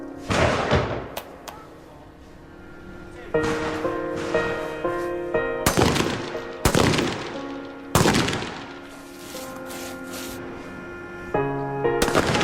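Gunfire on a military firing range at Sandhurst: sharp, loud individual rifle shots in an irregular sequence of about eight reports, each with a ringing echo tail, and no speech between them.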